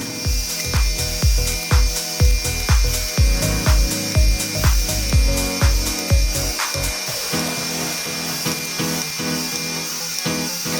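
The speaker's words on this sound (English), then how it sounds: "We'll take them over to the router, do a round over on it with a top follow" Loud, rhythmic bursts of a router rounding over a wood edge with a top-follow bit, repeated passes in quick succession for several seconds, then a steady whirring hum as the cutting stops.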